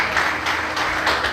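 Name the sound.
church congregation applauding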